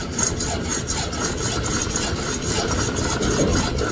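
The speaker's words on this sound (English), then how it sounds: "You have to cut this with a hacksaw because the grinder disc won't cut it." A hacksaw cuts through plastic irrigation pipe in steady back-and-forth rasping strokes, close and continuous, with no talk.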